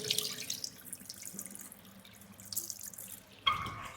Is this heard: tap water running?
yes